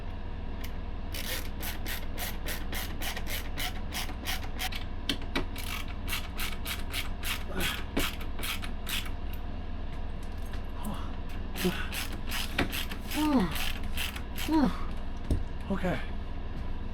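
Screws being driven by hand into the top of a box truck converted into a bedroom: a long run of rapid, even clicks and scraping, steady and close, slowing near the end, with a voice faintly present.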